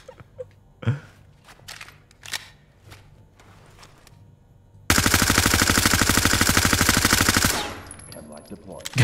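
Sustained rapid automatic gunfire in the tactical shooter Ready or Not, a dense loud burst lasting a few seconds after scattered lighter shots and soft movement sounds.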